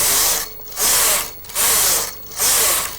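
Brother KH950i knitting machine carriage sliding across a row of plain knitting, a loud rasping mechanical sweep repeated three times in steady rhythm with short pauses between passes, close up and alone.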